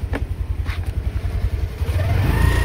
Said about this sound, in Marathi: गाडी पार्क करतोय भाऊ.